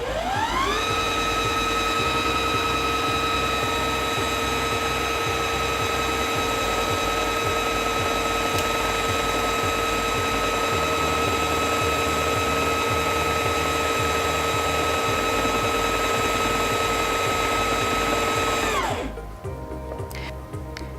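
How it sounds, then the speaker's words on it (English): A Singer Featherweight C240 sewing machine winds its bobbin with a steady high motor whine and whirr that holds for nearly twenty seconds, then cuts off and spins down abruptly. "The bobbin will stop automatically when it's full, or you can take your foot off the foot control when you feel like you have enough thread for your project."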